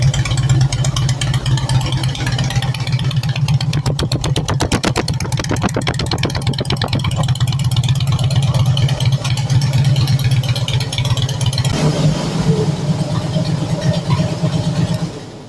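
A Moto Guzzi fitted with a Shark Road dual fishtail exhaust idles with a deep, close, steady thump, breaks into quick pulsing throttle blips partway through, then settles back to a rumbling idle.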